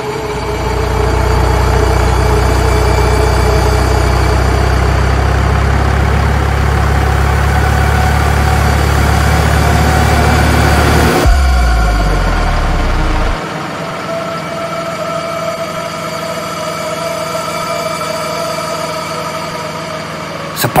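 A railway locomotive engine idles in a steady, loud low rumble that runs throughout, shifting to a lighter, thinner drone partway through.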